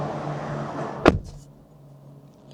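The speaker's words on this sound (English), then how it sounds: "So let me close the door now." A BYD Seal 06 car door shuts with a single solid thud close by, cutting off a low hum and leaving near silence afterward.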